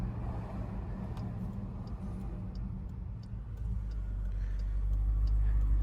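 Inside a Jeep Trackhawk driving at night, a low engine hum sits under a soft, regular ticking, and the engine rumble swells louder toward the end.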